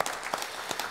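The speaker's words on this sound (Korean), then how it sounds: "지금까지 이 모든 언약의 여정을 친히 인도하신 성삼위 우리 하나님께 영광의 박수를 올려드립시다." Church congregation applauding during a Korean Sunday worship service, a short burst of scattered handclaps with a few sharper claps standing out, moderately close and fairly quiet.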